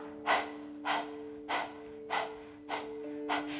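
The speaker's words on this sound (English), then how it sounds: "you just are panting like a dog, so you can stick your tongue out" Rapid panting breaths during a yoga abdominal breathing exercise, six sharp, evenly spaced exhales about half a second apart, close and fairly quiet with a faint steady hum underneath.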